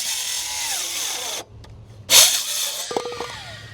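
A Makita power tool whirs steadily for over a second, cuts out, then bursts back briefly with a loud spike before clicking and rattling noises follow; no speech.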